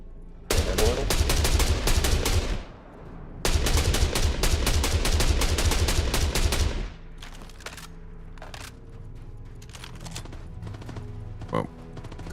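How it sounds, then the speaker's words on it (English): Star Citizen video game gunfire: two long, loud bursts of rapid automatic fire separated by a short gap, then quieter scattered shots and ambient game noise with a single sharp report near the end. "Gunfire."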